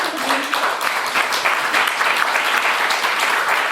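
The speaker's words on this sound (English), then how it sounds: "we do a final round of applause to our lovely speakers" Warm, continuous applause from an audience fills the room after an art talk, as listeners give a closing round for the speakers, steady and full with no voices above it.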